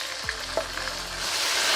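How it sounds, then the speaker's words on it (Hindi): Tomatoes frying with garlic paste in a pan for chicken tinday, a loud, close, continuous sizzle that swells slightly toward the end of a brief moment. "पेस्ट अच्छे से फ्राई हो गई है तो अब इसमें टमाटर शामिल करेंगे"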